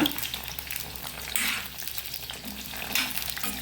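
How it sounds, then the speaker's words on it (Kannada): Brinjal fries in oil for brinjal ennegayi, a steady close crackle and hiss with a couple of louder sizzling surges as the pieces are moved. "ಇದನ್ನೀಗ ಸ್ವಲ್ಪ ಇದರಲ್ಲಿ ಒಳ್ಳೆ ಫ್ರೈ ಮಾಡ್ಕೊಳ್ತಿದ್ದೇನೆ"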